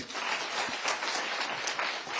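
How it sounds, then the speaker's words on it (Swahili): An audience at a Kenyan forum with people living with disabilities claps for a speaker. The applause is a moderate, even patter of many hands, running a little over two seconds. "Tupigie makofi."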